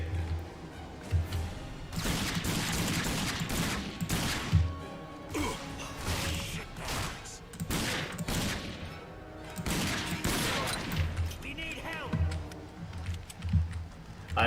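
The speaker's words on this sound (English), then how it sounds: "Ah, they got guns too." Gunfire in the video game Rage comes in rapid, loud bursts of repeated shots with thuds and impacts, clustered in bouts across the stretch with short gaps between.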